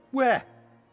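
A single short, harsh caw from a crow in the adventure game Dreamfall Chapters, loud and close, rising and then dropping off quickly against a quiet background hum.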